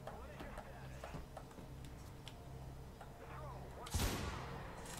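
Gunshots from a gun in the video game Mirror's Edge, a few sharp cracks with one louder blast near the end, over steady game background noise and a talking voice.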